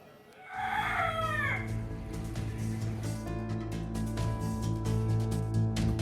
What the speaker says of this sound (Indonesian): ayam yang selalu berkokok di pagi dan siang hari